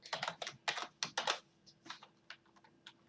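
Quiet keystrokes on a computer keyboard: a quick burst of clustered clicks followed by slower, scattered taps, soft and close with no voices.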